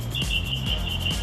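Birds chirping outside a screened condo patio, a faint steady high twittering over a low background hum, with no voices.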